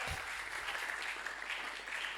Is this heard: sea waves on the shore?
no